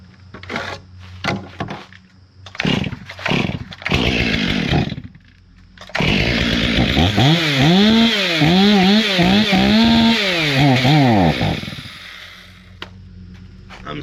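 Stihl MS500i and Husqvarna 572XP chainsaws starting up: short pull-start bursts and brief engine catches, then a sustained loud two-stroke run with rising and falling revs before cutting off abruptly.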